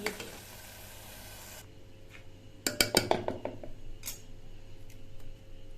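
Kasi halwa is stirred in a pan, with a steady sizzling hiss at first, then sharp metallic scrapes and clinks of the spoon against the pan in a quick cluster, followed by softer scattered stirring.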